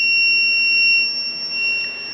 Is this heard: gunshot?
no